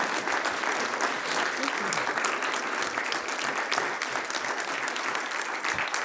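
An audience at a poetry reading applauds after a poem, with steady, dense clapping that fills the room for the full stretch without letting up.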